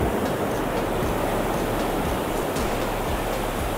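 High surf waves at a surfing beach roar as a dense, continuous wash of broadband noise with a low rumble beneath, steady and fairly loud, with no talk.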